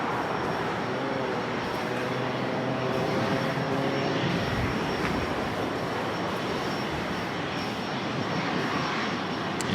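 An Austrian Airlines 777-200ER bound for Vienna takes off from runway 24 left on the north side of Los Angeles International Airport, its engines a steady distant roar and rumble that swells and broadens over about ten seconds with no talk.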